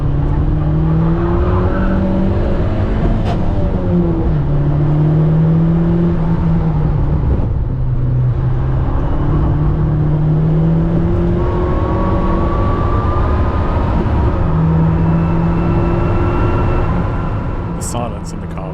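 A race car engine at a sprint event roars steadily and loud from inside the cockpit, rising and dropping through rough gear shifts and a slipping clutch, with a voice talking over it.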